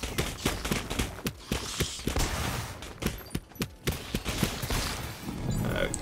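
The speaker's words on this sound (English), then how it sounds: "Look at those explosions now." Enemies burst in rapid chains of explosions in the roguelike video game Beyond the Long Night, sharp cracking blasts stacking in quick irregular bursts over a steady game backdrop, with no talk.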